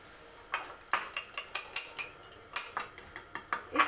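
A spoon works a mashed hair-mask paste with added capsules in a bowl, giving a quick series of about a dozen sharp metallic clinks and scrapes in an uneven rhythm, close and fairly quiet.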